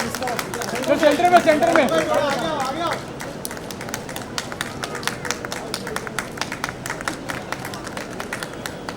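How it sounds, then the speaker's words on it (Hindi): Loud applause and cheering from a festival crowd welcoming guests in Mumbai, a dense burst of clapping for the first few seconds that then drops to scattered claps under ongoing talk. "एक बार जोरदार तालियां।"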